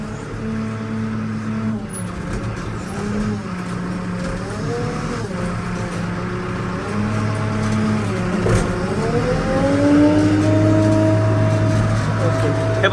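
A JCB backhoe loader engine runs steadily in second gear on a work site, a loud continuous low drone that swells slightly toward the end, with someone talking over it throughout.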